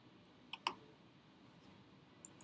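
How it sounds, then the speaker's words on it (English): A computer mouse clicks on an on-screen Add button, giving a couple of sharp, quiet clicks close together early on, then a few faint ticks later against a near-silent background. "I'm going to click on the Add button."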